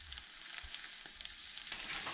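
Onions for a Goan red amaranth curry sauté lightly in a pan, giving a soft, steady sizzle with a few faint stirring scrapes, quiet and close.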